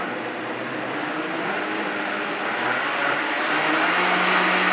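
A Vitamix blender powered by an EcoFlow portable power station whirs steadily at close range, a continuous loud motor roar that builds slightly toward full speed.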